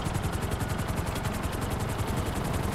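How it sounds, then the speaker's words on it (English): Steady, loud video game helicopter rotor thrum with rapid rhythmic chopping throughout, continuous and unbroken. "Wait a minute. I see helicopters."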